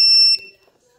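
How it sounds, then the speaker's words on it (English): An electronic device, a Hum-x unit, beeps once when plugged in: a short loud high-pitched electronic tone lasting about a third of a second, close up, then quiet. "And it does beep when you plug it in."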